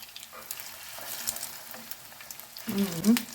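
Cutlets fry in a pan with a close, steady sizzle, then a brief burst of clatter as they are handled near the end.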